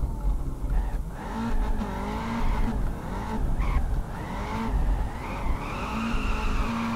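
A Nissan GT-R with an 800 hp engine drifts around a ring in the video game Peak Angle, its engine droning steadily while tires squeal in long, wavering bursts throughout.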